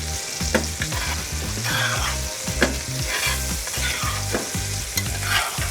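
Three pats of butter sizzle in a very hot skillet with a T-bone steak. A steady, loud frying hiss runs throughout, broken by sharp spits and crackles.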